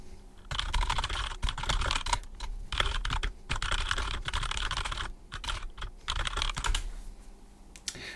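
Fingers tap rapidly on a computer keyboard in quick bursts of clicking keystrokes, close and clear, with short pauses between runs and no talking.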